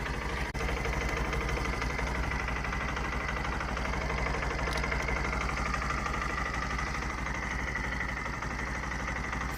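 A 2023 Honda Shine motorcycle engine idling, a quiet, smooth and even low rumble that holds steady throughout with no revving.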